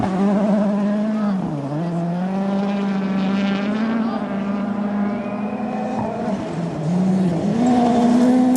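Rally car at full throttle on a gravel forest stage of the 2013 Rally Finland power stage, its engine loud and close, pitch dipping and rising through gear changes and corners with no talk.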